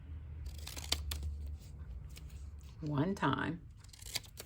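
Scissors snip through twice-folded orange paper in a few short, crisp cuts, partly under a speaking voice and some paper handling.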